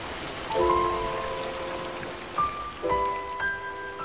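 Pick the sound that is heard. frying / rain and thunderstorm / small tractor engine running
rain and thunderstorm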